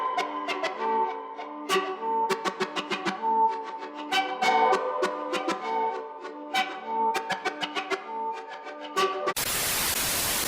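A sample heavily processed with distortion, effectrix, reverb, cassette and delay effects, with rhythmic hits and echoing tails, ending abruptly in a burst of harsh static noise.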